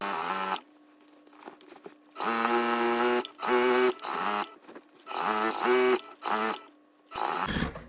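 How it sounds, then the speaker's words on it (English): Sewing machine stitching along a raw edge of fabric binding in a series of short, close bursts with pauses between them, the motor whirring with a steady mechanical tone. "We're gonna finish sewing along this raw edge"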